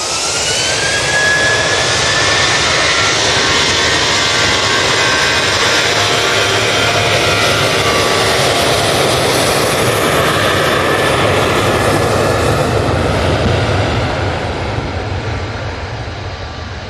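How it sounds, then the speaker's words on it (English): A Ryanair Boeing 737 jet airliner takes off at Manchester Airport with a loud, sustained roar that fills the air throughout and fades slightly at the end. "Ryanair 737 now off to Rabat"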